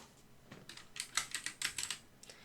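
Quick bursts of keystrokes clatter on a keyboard, starting sparse and then settling into a steady run of close, crisp taps.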